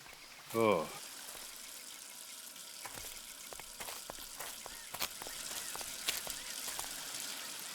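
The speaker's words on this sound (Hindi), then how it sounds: "यहाँ पे पानी की पाइप फटी हुई है।" Water gushes steadily from a burst water pipe, making a faint, continuous broadband hiss with a few small clatters. A short voice sounds near the start.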